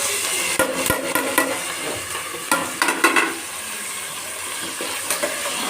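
Onions and curry leaves fry in a pan with a loud, close hiss, while a spoon scrapes and taps in clustered strokes that fade into a steady sizzle.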